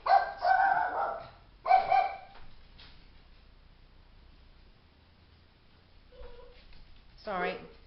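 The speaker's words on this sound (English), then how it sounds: "He barks, something sparks him off, you can't tell what it is. He's just strange. And then he starts the big dogs off, as you can hear." A small papillon dog yaps a few sharp barks near the microphone, followed by fainter barking from bigger dogs further off, with a person talking in between.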